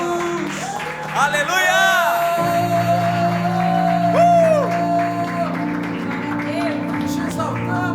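A church congregation claps and cheers loudly in sustained applause during a worship service, mixed with shouts and a voice calling out over music.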